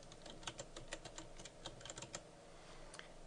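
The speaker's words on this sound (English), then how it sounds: "Type in your text." Keys clatter on a computer keyboard in a short burst of quick, close typing, followed by a pause and one last tap, with no talking.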